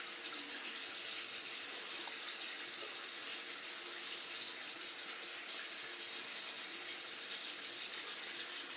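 Water runs from a tap at about 1.2 gallons per minute through a household water meter, a steady, even hiss and rush that holds at the same level throughout with no voices.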